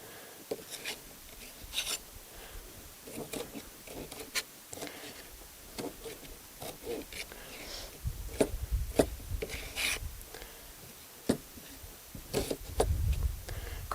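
Knife slicing through a strong onion on a cutting mat outdoors at a campfire cooking site, with soft scattered rubbing and tapping cuts, faint and irregular, with low rumbles toward the end.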